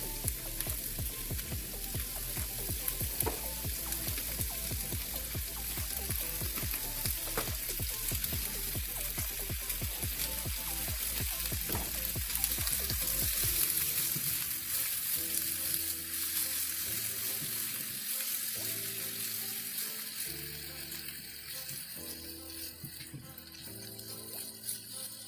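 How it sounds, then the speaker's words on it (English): Vegetables sizzle loudly in hot olive oil in a pan, with a dense, steady crackle and rhythmic scraping as they are tossed, settling into a continuous hiss of frying. "So I'm just going to add my vegetables and give them a good little toss, just so that they're coated in a little bit of oil"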